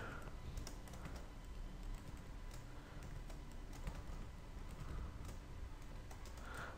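Quiet, steady computer keyboard typing of C++ code for a circular queue program, keys clicking continuously at an even pace with no voices.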